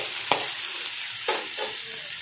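Small onions being sautéed in a pan with cinnamon and cloves, a faint sizzle under a few soft scrapes of a stirring spoon against the pan, quiet and close with no talk.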